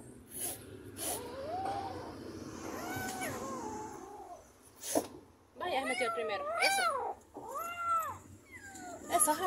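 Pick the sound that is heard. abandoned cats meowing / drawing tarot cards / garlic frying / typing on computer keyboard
abandoned cats meowing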